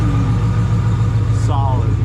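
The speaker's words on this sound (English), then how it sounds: "These X-pipes really wake these puppies up." A Shelby Super Snake fitted with a Steeda X-pipe idles close by with a deep, even exhaust burble, while a voice cuts in briefly near the end.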